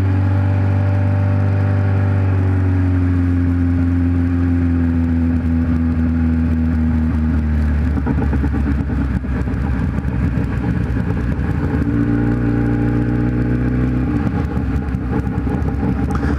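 A Kawasaki Z1000 motorcycle rides downhill at night, its engine droning steadily and loud throughout, with pitch sliding down and shifting as it changes speed.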